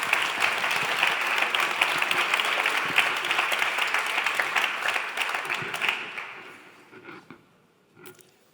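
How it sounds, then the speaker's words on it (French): A conference audience applauds award finalists at a digital-industry prize ceremony, a dense, steady wash of clapping that holds loud for several seconds, then thins and fades out with a last few scattered claps. "je pense qu'on peut les applaudir d'être arrivés jusqu'au final"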